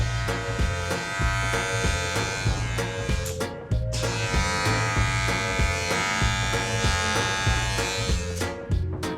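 Wahl professional hair clipper fitted with a 1.5 guard buzzing steadily through hair, a close electric hum with rhythmic pulsing as the blade makes repeated upward passes, no speech.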